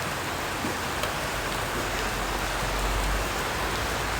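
Heavy rain pours down steadily in Manila, a dense, continuous hiss of drops hitting surfaces with no break throughout.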